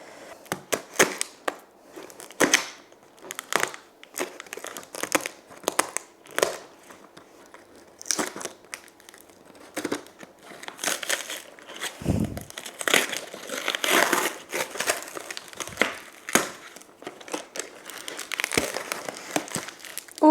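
A cardboard parcel holding a QiYi Clock puzzle in lilac is torn and opened, giving repeated close crinkling, crumpling and ripping bursts of paper and card with short pauses between them, and no talking.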